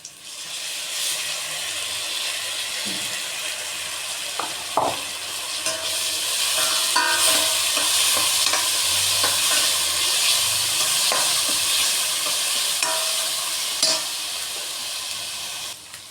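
Ginger garlic paste sizzles and spits steadily in a hot pan for mutton curry as it is stirred, with occasional scraping clinks of a utensil; nobody speaks.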